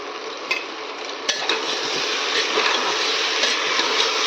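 Khichdi with cumin powder and salt being stirred in a pot, a close continuous scraping and shuffling of the spoon over a soft sizzle, with a few sharp clinks against the metal rim.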